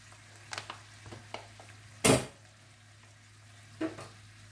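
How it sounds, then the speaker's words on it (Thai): Pork belly stir-fried with red curry paste and bamboo shoots sizzles quietly in a pan, with scattered scrapes and stirring clatters and one sharp loud clank near the middle. "ผัดหมูใส่หน่อไม้ใส่แกงใส่อันน้ำพริกแกงแดงนี่ล่ะ"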